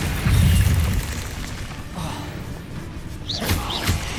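A Bombarda spell detonates in Hogwarts Legacy with a deep booming blast near the start, followed by lighter whooshes and small magical effect sounds.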